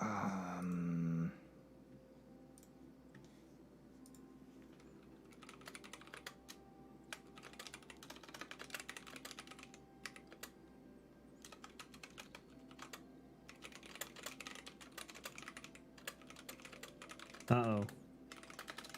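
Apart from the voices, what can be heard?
fast typing on a keyboard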